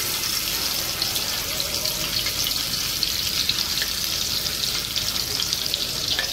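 Mutton brain frying in hot oil in a pan, a steady, loud, dense sizzle that holds evenly throughout with no voices over it.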